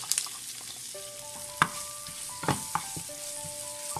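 Kashmiri chilli, curry leaves, garlic and ginger frying in oil, a steady close sizzle with a few sharp crackles and spoon taps, no talking.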